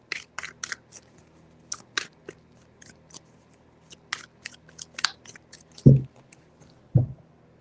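Tarot cards are handled and shuffled in quick, sharp flicking taps close by, followed by two heavier thumps near the end as the deck is set down or cut.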